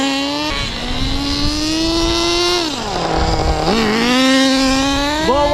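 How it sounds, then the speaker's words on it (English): A Super Nitro RC car's nitro engine runs through a classic tuned pipe, a loud buzzing whine that holds steady, dips as the throttle drops, then climbs again in quick revs, close and alone. "I'm gonna run my Super Nitro just normally"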